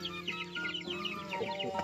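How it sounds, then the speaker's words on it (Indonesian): Pelung chickens in an Indonesian village keep up a chorus of quiet, overlapping clucks and chatter at moderate distance, with no one talking over them. "Ini ayam pelung juga nih di sini."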